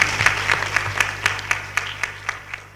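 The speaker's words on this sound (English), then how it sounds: "Let's clap for her one more time." A small audience at a school debate lecture claps in an even, distinct rhythm, about a dozen crisp hand claps that fade slightly toward the end, no talk over them.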